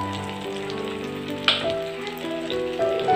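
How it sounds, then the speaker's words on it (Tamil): Raw banana (vazhaikai) slices frying in hot oil in a home kitchen, giving a steady close sizzle with a brief louder crackle partway through. "ஒரு சைடு ஆவனா நம்ம திருப்பி போட்டு ரெண்டு சைடு போட்டு ஃப்ரை பண்ணி எடுக்கலாம்"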